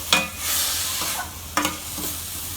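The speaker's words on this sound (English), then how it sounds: "And cook this until the onions are nice and brown." Onions, green chilies and curry leaves frying in a pan for samosa filling, a loud close sizzle with two sharp scraping stirs of the spoon, otherwise without voices.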